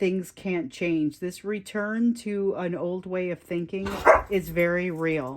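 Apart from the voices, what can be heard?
dogs barking in the background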